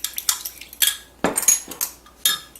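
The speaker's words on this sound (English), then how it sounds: "So then I'm just going to mix this up, kind of whisk it together." A fork whisks orange juice, honey and oil in a bowl, giving quick bursts of metallic clinks and scrapes against the dish in short irregular runs, close and fairly loud with no talking.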